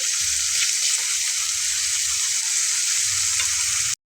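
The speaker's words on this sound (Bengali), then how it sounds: "প্রথমে সরিষার তেল দিয়ে আলুটা ভেজে নিচ্ছি" Potatoes fry in hot mustard oil with a loud, steady, close sizzle, occasional light stirring clatter underneath, cutting off abruptly at the end.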